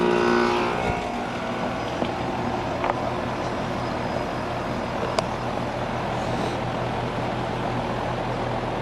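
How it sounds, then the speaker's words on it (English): A steady mechanical roar of a heat pump compressor with low droning hum, a sharp click and hiss partway through as the reversing valve flips, loud and continuous with no talking. "You're gonna hear that reversing valve flip over, the compressor get a little angry for a minute."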